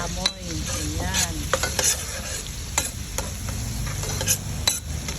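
Black pepper sautéing with onion and garlic in a pan for ginisang ampalaya, a steady close sizzle broken by several sharp clinks and scrapes of a utensil stirring against the metal.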